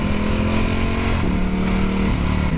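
Ducati Panigale V4 motorcycle ridden on the road, its engine note loud and steady throughout with a brief shift in pitch midway, heard close from the rider's position.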